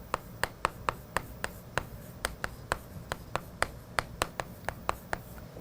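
Chalk or marker tapping and scraping on a classroom board while an economics teacher draws a demand curve: a steady run of short, sharp ticks about every quarter second, fairly quiet, with no talking.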